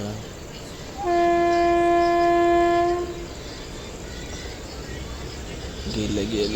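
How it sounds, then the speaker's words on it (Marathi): Koyna Express train sounding a loud, steady horn for about two seconds as it starts to move, followed by low rumbling rail noise; voices murmur in the background. "सो आता ट्रेन निघत आहे"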